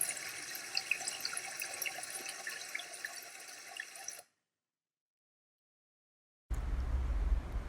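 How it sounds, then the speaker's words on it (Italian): Spring water flows in a quiet, gentle stream, a bright, steady trickle for about four seconds that cuts off abruptly into silence before a duller, low background noise returns. "Il suono di quest'acqua di sorgente."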